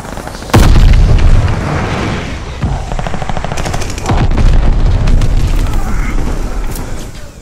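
Explosions from a glide bomber airstrike in the Call of Duty: Vanguard video game: loud booms and heavy bursts of gunfire, one big blast up front, then rumbling impacts and rapid cracks that keep on through the whole stretch.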